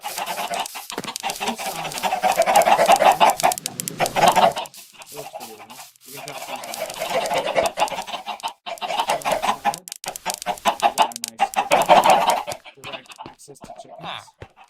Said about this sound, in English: Access to chickens.